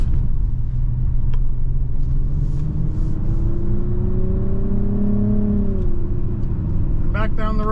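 A 2023 Nissan Rogue SV AWD with a CVT driving on the road, heard from the cabin: steady loud road rumble and engine whir, with a gently rising then falling engine tone and a brief ticking near the end.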